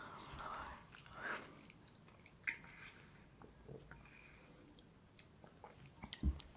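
A huge double cheeseburger with fries is chewed close up: quiet wet bites and squishy mastication, with a few sharper smacks and a heavier thump near the end.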